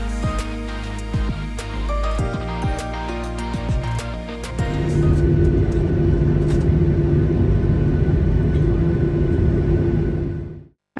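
Cabin rumble on a short passenger flight to Phuket, a dense steady low roar filling the space, with clicks and knocks early on before the noise broadens and swells, then cuts off abruptly at the end.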